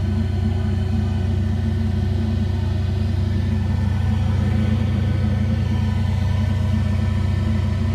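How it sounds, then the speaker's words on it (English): An in-line blower fan mounted in a car trunk as an amplifier cooling upgrade runs steadily, giving a constant low hum and airy whoosh with no talking. "Alright, so now the fan is on."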